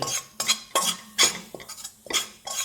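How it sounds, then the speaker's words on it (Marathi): A spoon scrapes and clatters against a pan while moong dal halwa with besan is stirred and roasted, giving irregular metallic strokes about every half second, fairly close and clear with only a faint sizzle underneath. "ते आता मी हलवून घेते चांगलं भाजून घ्यायचं"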